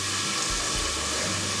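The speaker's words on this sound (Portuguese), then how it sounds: "E já coloco água." Tap water runs steadily into a cooking pot holding sausage and bacon for a stuffed-meat lunch, a continuous close rushing hiss with no talk over it.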